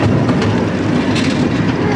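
Amusement park train at Lightwater Valley running on its rails, a loud, continuous rumble and clatter heard from on board, with no talking.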